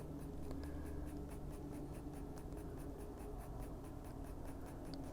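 Fine pencil strokes on paper while drawing tiny fur hairs, a steady run of short, quick scratchy flicks close up, continuous and alone with no voices.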